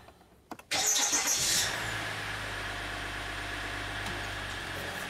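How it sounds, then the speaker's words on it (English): Diesel engine of a Dodge Ram truck with a restricted particulate filter cranks and catches after a short quiet lead-in, then settles into a steady, loud low idle rumble inside a shop. "So now we're gonna drive the vehicle outside the shop"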